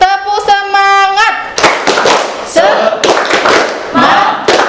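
Indonesian physics class clapping in unison for a spirit cheer: a sung tone first, then bursts of sharp group claps in rhythmic clusters with children's voices shouting between them, close and loud.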